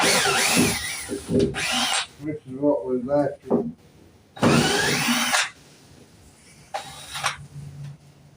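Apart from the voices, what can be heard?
cordless drill running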